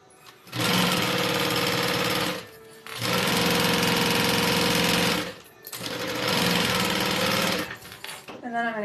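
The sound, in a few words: sewing machine sewing bag panels together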